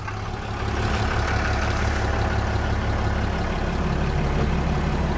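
Diesel engine of a 2018 heavy-duty pickup, Ford F250, RAM 2500 or Chevy Silverado, idling with a deep steady rumble and rattle, loud and close, holding constant after a slight rise at the start.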